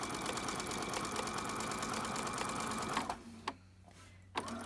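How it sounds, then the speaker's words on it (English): A sewing machine runs steadily as it stitches along lined-up fabric edges, then stops abruptly, leaving near silence broken by a couple of soft clicks. "I'm going to put my presser foot down and stitch"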